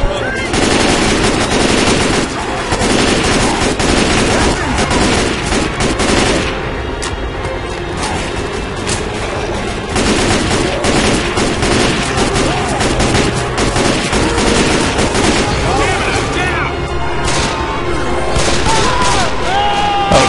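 Constant loud gunfire in Left 4 Dead, dense rapid automatic bursts and shots running nearly unbroken throughout, with players talking over the shooting.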